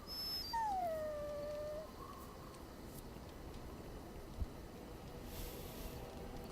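A dog in the fantasy video game Dragon Age Origins gives a short rising-then-falling whine or howl, quiet, followed by low ambient game background.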